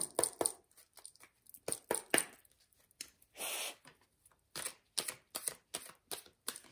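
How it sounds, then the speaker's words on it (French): Tarot cards are shuffled and handled in quick bursts of riffling and slapping, with short pauses and one longer smooth slide, close and fairly quiet. "on va demander un conseil de mes petites cartes"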